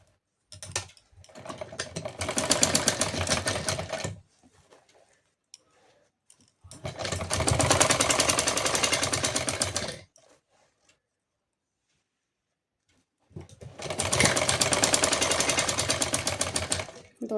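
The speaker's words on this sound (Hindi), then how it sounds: "तो मैं यहाँ पे सिलाई लगा लेती हूँ इनके दोनों तरफ किनारों पर" Sewing machine stitching along both side edges of a small dress for a goddess doll, running in three loud, steady bursts of several seconds each, separated by short pauses.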